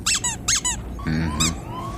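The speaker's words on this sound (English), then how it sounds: "And this one also squeaks." A squeaky toy is squeezed to give four close, loud, bright squeaks, two quick pairs, then a softer wheezing squeal and one more squeak, with no talk.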